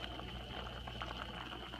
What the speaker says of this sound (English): it has been about 10 minutes and water is still boiling